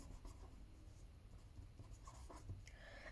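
A pen writes a heading by hand on paper during a math lesson, giving a soft, continuous scratching and rubbing close to the listener, with no talk.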